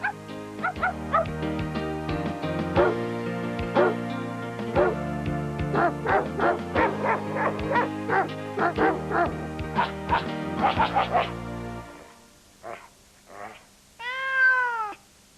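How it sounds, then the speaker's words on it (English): Several dogs bark and yap in overlapping bursts at Battersea dogs home, with cats meowing among them, a busy kennel chorus ending in a few whimpers and a long meow. "finding homes for all those cats and dogs"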